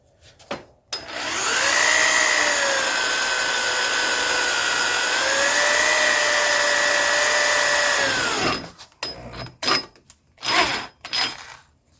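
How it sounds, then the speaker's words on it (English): A power drill run at slow speed bores through a steel plate about 1/8 to 3/16 inch thick, a loud steady whine lasting several seconds that winds down, followed by a few short clunks and handling noises. "I'm going to be using a slower speed to drill this."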